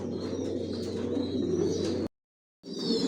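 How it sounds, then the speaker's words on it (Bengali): Racing pigeons of a single Johnson long-distance line coo steadily inside a loft, a close, continuous murmur of overlapping calls that stops for a moment of silence and then resumes. "সব একই লাইনের কবুতর পালি, জনসনের সব লংয়ের কবুতর"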